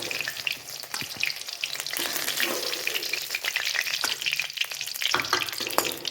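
Stuffed onions fry in oil in a pan with a steady, close crackling sizzle, broken by occasional clinks and scrapes of stirring throughout.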